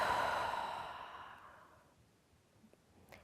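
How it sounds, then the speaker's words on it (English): A long, deep exhale during guided meditation, loud and close at first and then fading into quiet, with a faint soft breath near the end. "Nice deep breaths."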